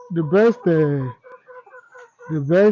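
Loud, close clucking and squawking from layer hens on a poultry farm in a few bursts, with softer calls in between and no people talking.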